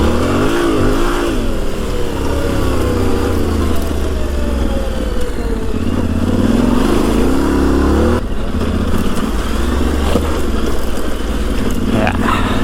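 A Yamaha Tenere 700 motorcycle ridden steadily with a loud, continuous engine drone and rising and falling revs, heavy wind rush close to the mic throughout.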